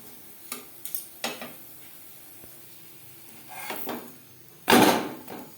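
Aloo paratha frying in a pan with a mix of refined oil and butter, with soft sizzling broken by a few scraping, stirring clatters and one louder burst of pan noise near the end.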